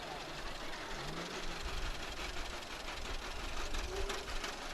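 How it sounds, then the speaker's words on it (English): A 1957 John Deere 620 tractor engine runs steadily in a rural parade, a continuous loud chugging drone with mechanical clatter lasting throughout, close by. "Clarence Swanninger has a 1957 620 John Deere tractor"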